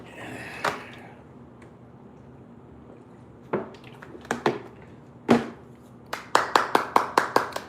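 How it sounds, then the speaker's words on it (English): A single person claps hands in a quiet room: a few scattered sharp claps at first, then a quick run of about seven rhythmic claps near the end, close and crisp against near silence. "Give yourself a round of applause."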